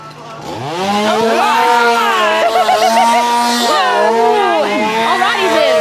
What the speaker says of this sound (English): chainsaw going downhill